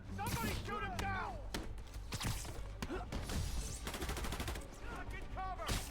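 Gunfire in the Marvel's Spider-Man video game, with rapid bursts of shots and sharp impacts scattered throughout, mixed with whooshing game effects and talking voices.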